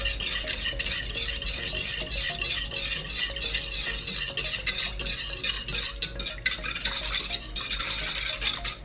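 A wire whisk stirs salt and yeast into ring doughnut batter in a bowl, a steady scraping, clinking churn that keeps going close by without a pause, with no one talking.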